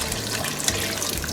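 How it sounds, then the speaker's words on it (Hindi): Water is poured from a cup into a pot of chicken and chickpea curry gravy, a brief, close splashing gush with a gurgle, heard alone without talk. "और मैं इसमें पानी ऐड करूँगी।"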